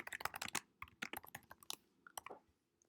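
Rapid clicking of computer keyboard keys while code is typed, uneven bursts of keystrokes close up and fairly quiet, trailing off at the end.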